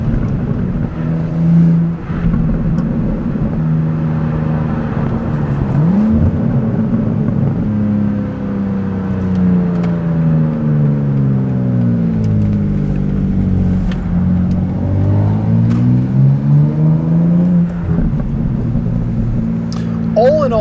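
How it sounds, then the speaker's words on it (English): The turbocharged six-cylinder engine of a BMW M2 G87 revs up and down through gears in a close, loud, continuous drone with rising and falling pitch sweeps, while someone talks over it. "Again, only so much you can do with a 6-cylinder turbocharged engine."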